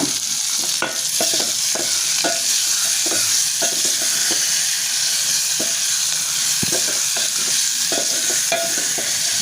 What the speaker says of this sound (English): So let it fry a little bit